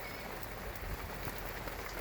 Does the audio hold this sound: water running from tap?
no